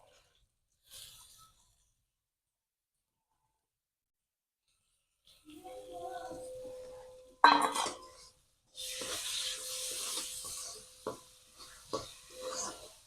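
Soaked moong dal goes into a pan with bottle gourd and is stirred and sautéed, giving scraping spoon strokes and clatters against the pan, soft sizzling, and several sharp metallic knocks after a long quiet stretch.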